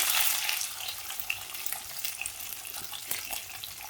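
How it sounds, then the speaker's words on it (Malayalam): Steady, close sizzling of garlic frying in hot oil, bright and crackly throughout, with a few stirring clicks along the way. "നമുക്ക് ആവശ്യത്തിനുള്ള വെളുത്തുള്ളി ചേർത്ത് കൊടുക്കാം"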